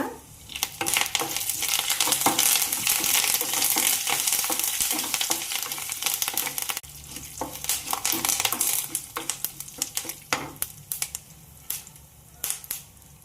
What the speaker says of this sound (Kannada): 1/4 ಚಮಚ ಆಗುವಷ್ಟು ಸಾಸ್ಮಿ, 1/4 ಚಮಚ ಆಗುವಷ್ಟು ಜೀರಿಗೆ, 1-2 ಮೆಣಸಿಕಾಯಿ ಮುರಿದಿಟ್ಕೊಂಡೇನು. ಅವತ್ನ ಹಾಕ್ತೇನು.